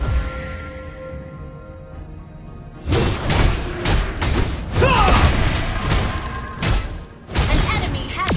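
Crashing, booming effects from a mobile MOBA match as a turret is destroyed, a loud cluster of impacts and debris after a quieter opening, with game announcer voice lines mixed in.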